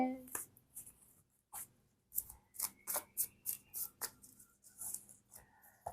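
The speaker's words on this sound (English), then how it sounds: "One more shuffle" A tarot card deck is shuffled by hand, giving a rapid run of crisp papery riffles and flicks in quick succession, close by, with a voice speaking softly around them.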